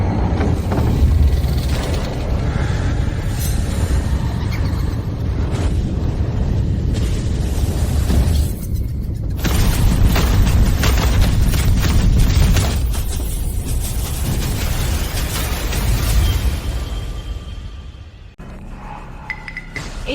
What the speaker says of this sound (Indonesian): Para leluhur keluarga Wijaya semuanya meledak